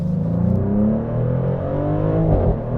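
A 2024 Maserati GranCabrio Trofeo drives in Corsa mode on a chilly morning, its engine giving a loud, steady low drone that rises and falls with throttle changes and shifts, heard from close by with no one talking.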